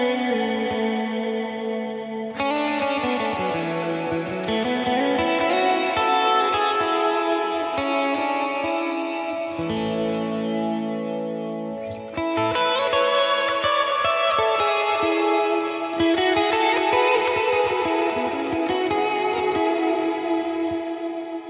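Ambient electric guitar through a Walrus R1 reverb pedal: slow, sustained chords and notes swelling into long washy reverb tails, moderately soft and spacious, with no talking.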